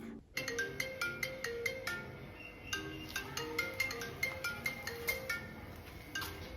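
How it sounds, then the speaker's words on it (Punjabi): A bright, melodic phone ringtone plays a repeating tinkling tune of quick plucked notes, fairly faint and steady throughout, with no one speaking. "ਪਰਮ ਦਾ ਫੋਨ ਚੰਗਾ ਹੋਇਆ ਆ ਗਿਆ"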